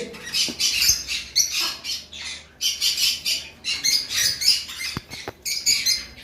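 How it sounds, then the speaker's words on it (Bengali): A pair of caged lovebirds squawks loudly and close by in repeated harsh, raspy bursts separated by short gaps. "আর এখানে এক পেয়ার লাভবার্ড রয়েছে"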